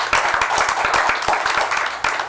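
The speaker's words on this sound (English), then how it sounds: "just want to give them guys a round of applause." People in a public utility board meeting give a round of applause. The dense clapping from a small group is close and steady for a couple of seconds.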